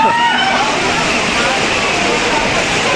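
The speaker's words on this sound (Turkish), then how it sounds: "şelalenin altından falan geçiyor." Water rushes and splashes loudly as a theme-park ride at Tripsdrill in Germany passes under a waterfall, a dense continuous roar close by with voices faintly mixed in.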